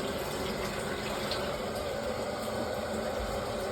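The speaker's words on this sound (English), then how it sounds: "we can run the hot water tap, and the boiler is starting" Hot water runs steadily from a tap fed by a Worcester combi boiler after a leak repair, a constant close rushing flow with no voices.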